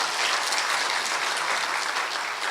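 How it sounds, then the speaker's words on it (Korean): A congregation at a church testimony service applauds warmly. The clapping is dense and sustained and holds at an even level throughout, with no talking over it. "가능한 짧게 박수를 쳤으면 좋겠습니다"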